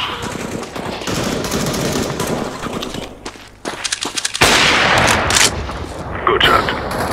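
Counter-Strike: Global Offensive gunfire rattles in rapid automatic bursts, with dense loud shots, a brief lull and then another harsh volley, and a player's voice at times.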